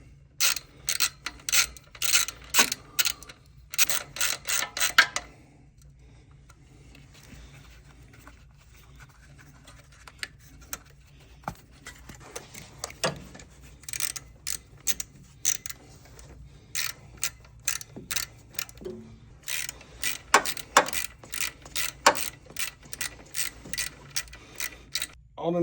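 A hand ratchet tightening 10 mm screws on a 2012-2015 Honda Civic during a water pump replacement, with bursts of rapid clicking repeated several times up close and quieter clinks between them.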